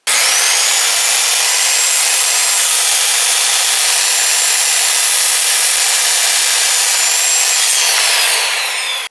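A power saw bites steadily through pallet wood for about eight seconds, a loud, continuous, harsh rasp close by, easing off at the end.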